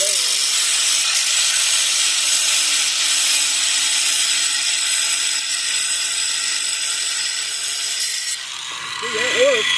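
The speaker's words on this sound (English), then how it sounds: "I'll put the grinder in there upside down." A grinder held upside down sharpens a Scag zero-turn lawnmower blade, a loud continuous high whine of metal grinding that drops away near the end as a voice begins to speak.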